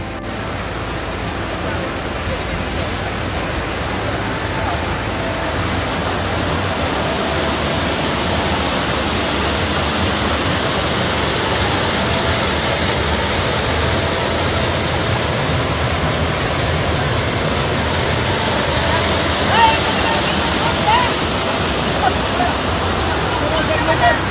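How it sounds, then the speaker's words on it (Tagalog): Steady, dense rush of river water flowing, filling the whole clip, loud and close, with a constant broadband wash and no pauses. "ninanamnam ang bawat tunog ng daloy ng tubig"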